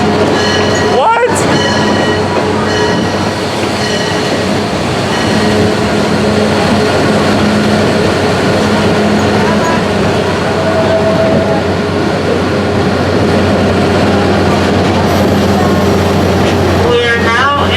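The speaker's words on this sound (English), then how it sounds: "We are now entering back into the train station." A theme park haunted train ride at Six Flags Over Georgia rumbles steadily along the rails with a constant low roar and faint squeals, loud and close, with a brief muffled voice under the noise.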